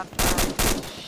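Two loud bursts of automatic gunfire in ArmA II, each a rapid string of close shots separated by a short gap, with no talking.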